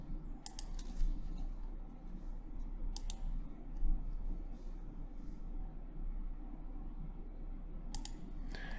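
Computer mouse clicks while picking colors in GeoDict simulation software: a few crisp, isolated clicks at irregular intervals, close and fairly quiet over a low steady hum.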